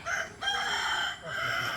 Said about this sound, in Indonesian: Nah, terdengar kokok ayam.